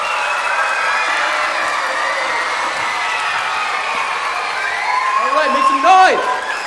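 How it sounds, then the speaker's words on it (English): A theater audience at a high school symphony cheer squad performance whoops and cheers in a steady, dense crowd roar, with a voice shouting over it near the end. "put your hands together and make some noise"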